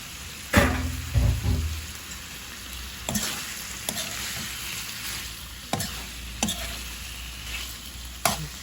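Pork salpicao with mushrooms being stirred in a frying pan, a steady sizzle broken by several distinct scraping stirs and clanks, close up, with no talking.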